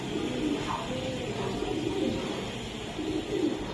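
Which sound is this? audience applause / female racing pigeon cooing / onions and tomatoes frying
female racing pigeon cooing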